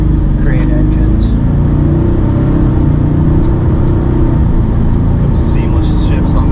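Ford Gen4 Coyote crate V8 idling steadily inside a car fitted with a 10-speed automatic, a low, even rumble close by, with faint cabin noises and no one talking.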